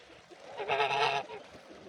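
A single drawn-out goose honk sounds fairly close, rising over a quiet outdoor background.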